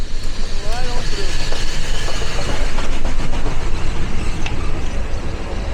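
Union Pacific Big Boy 4014 steam locomotive hauling tank cars rolls past, loud and close, with a dense continuous roar, rhythmic clatter of wheels and high squeals, while people talk excitedly nearby.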